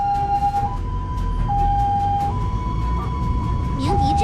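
An ambulance siren on an urgent morning-rush run through city traffic wails in a steady two-tone cycle, loud and close, over a low rumble of road noise.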